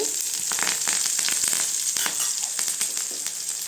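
Cumin, onion, curry leaves and dried chillies sauté in hot oil for a chow chow and chana dal poriyal, giving a steady close sizzle and crackle with light stirring scrapes throughout.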